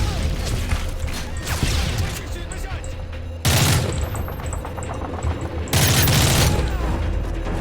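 Rapid automatic gunfire and explosive booms in Call of Duty: Modern Warfare 3, loud crackling volleys in bursts with two heavy blasts, while someone talks throughout.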